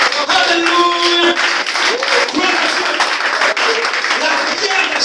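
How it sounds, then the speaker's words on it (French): A church congregation applauds loudly and continuously, the clapping blended with shouting voices and some sustained tones in the busy worship space. "parole du Seigneur qu'on acclame très très fort ce matin"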